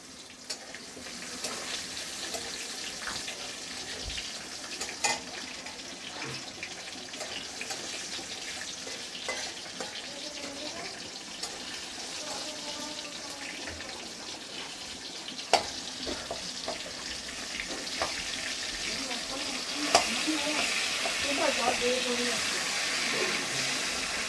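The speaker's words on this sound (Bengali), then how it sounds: "টমেটোটা একটুখানি ভাজা ভাজা হবে।" Chopped tomatoes frying in a pan with chilli, cinnamon, clove and cardamom for a cauliflower and potato vegetable curry, giving a steady low sizzle throughout with occasional clinks and stirring.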